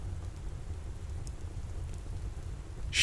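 Steady rain patters against a window in a soft, even wash that holds constant throughout, with faint droplet ticks and a brief brighter splash at the very end.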